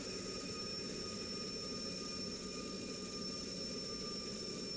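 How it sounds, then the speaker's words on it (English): Derwent jet engines at full throttle for takeoff in a combat flight simulator, a loud, steady whining roar with a high turbine tone holding throughout. "Full throttle on the Derwent engines. They're coming up on the RPM gauges to full power."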